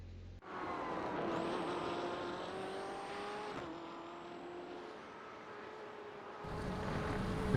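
Racing car engines in the iRacing simulator whine and rise in pitch through gear changes, a steady loud roar with a sharp tonal rev that drops and climbs again.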